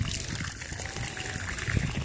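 Water trickling and splashing as plants are watered outdoors, a soft continuous dribble with low rumbling bursts, fairly quiet and without voices.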